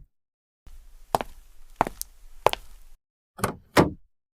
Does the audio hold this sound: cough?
no